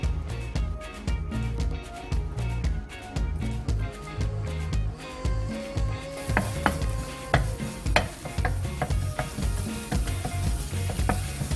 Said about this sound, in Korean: 식용유 1큰술에 마늘 1큰술을 넣고 볶아주세요